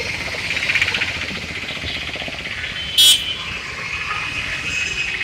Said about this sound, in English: The traffic here